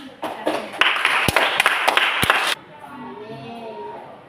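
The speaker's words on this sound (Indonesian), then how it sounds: "tepuk tangan untuk kita" Applause from students in an Indonesian junior high school classroom during a lesson, a burst of close, dense clapping lasting about two seconds before it stops abruptly into quieter room sound.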